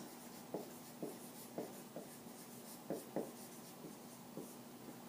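Pen or marker strokes writing numbers on a surface during a maths lesson on decimals and fractions, a steady series of short scratchy taps and scrapes, close and quiet over a faint background hum.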